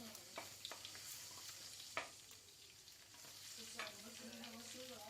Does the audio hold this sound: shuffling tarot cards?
no